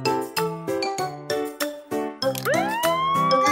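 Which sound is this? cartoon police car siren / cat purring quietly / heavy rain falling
cartoon police car siren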